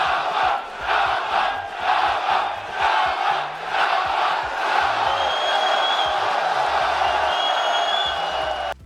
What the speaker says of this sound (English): the crowd is just basically taunting Jamal Hill at this point, just yelling Shama, Shama, Shama